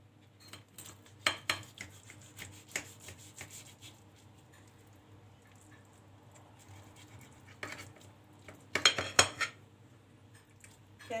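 A knife slices through oven-baked cauliflower on a plate, giving soft scraping and rasping strokes with a few sharper clinks of cutlery, faint and intermittent, with no talking.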